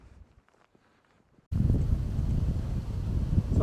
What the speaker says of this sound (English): the wind is really picking up right now. These gusts are pretty crazy.